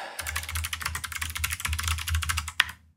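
Rapid, steady typing on a computer keyboard enters a password at a desk. The clatter is close and continuous and ends with one sharper keystroke, with no speech.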